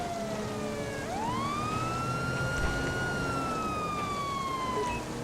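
Police car siren in GTA V with the LSPDFR mod, wailing loudly and continuously, its pitch sweeping down and then climbing back up, with steady traffic noise underneath.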